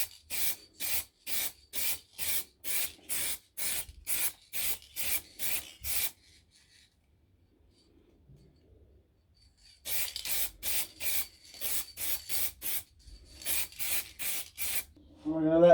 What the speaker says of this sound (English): Now it's time for metallic paint.